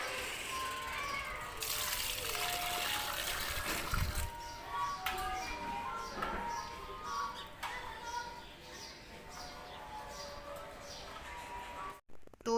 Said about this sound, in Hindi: यहाँ पे मैंने दिया अब पौधों को पानी।